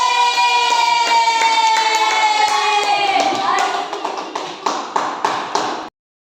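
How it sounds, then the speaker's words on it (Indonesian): Schoolchildren clapping together in a combined third and fourth grade classroom, rhythmic claps over bright sustained tones, breaking into a few separate loud claps before stopping abruptly. "Oke, tepuk tangan."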